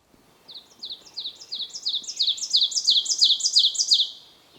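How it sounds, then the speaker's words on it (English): Pine warblers sing repeated bright trilled phrases from a row of white pines, a steady series of rapid chirped notes building in loudness, with ovenbirds singing underneath in a Maine forest; no voices. "there's a whole row of white pines here, which is full of pine warblers, and ovenbirds are singing underneath"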